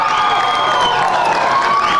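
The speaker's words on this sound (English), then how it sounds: "the crowd noise you hear is the crowd immediately to our left" A baseball crowd at a Cedartown versus Sonoraville high school game roars and cheers from the nearby stands, a dense continuous swell of voices that holds loud throughout.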